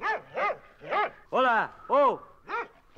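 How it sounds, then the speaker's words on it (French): A dog at a house in the night barks in a steady, evenly spaced series of about seven loud, close, tonal barks, with a man's short exclamation mixed in. "Un chien,"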